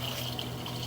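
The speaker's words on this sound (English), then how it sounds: "there's the water flowing, nice and smooth" Steady water flowing through a residential sewer line toward the city main connection in Long Beach, a smooth, continuous rushing wash with no talk, heard close from inside the pipe.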